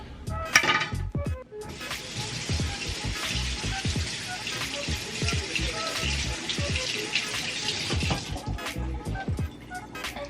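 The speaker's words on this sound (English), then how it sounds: "I'm about to wash my hands" Tap water running while hands are washed in a home kitchen during cooking, a steady splashing hiss with scattered clinks and knocks of dishes, fairly quiet and close, cutting off near the end.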